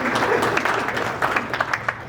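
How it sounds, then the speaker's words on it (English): Audience applause at a high school baseball hall of fame event, a dense, fairly loud wash of clapping with a few sharper claps standing out, lasting a couple of seconds. "How about a round of applause for Meg over"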